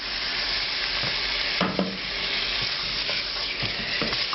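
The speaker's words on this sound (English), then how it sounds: "Now I'm going to add the tomato sauce. This will cool it way down." Spices frying in hot fat in a curry pan for lamb bhuna sizzle steadily, with stirring scrapes and a louder burst as tomato sauce goes in, the hiss continuing close and even throughout.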